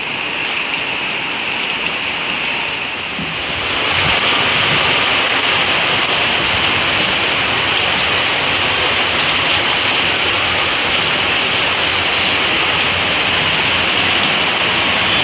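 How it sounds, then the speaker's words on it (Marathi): Heavy rain pours steadily in Manchar, Ambegaon, Pune, a dense continuous hiss that swells louder after the first few seconds and stays even with no voices. "खूप जोरदार असा पाऊस पडतोय मित्रांनो."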